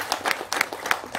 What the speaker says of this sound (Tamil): நீங்கள் எல்லாரும் ஒரு கைத்தட்டல் கொடுங்க ப்ளீஸ்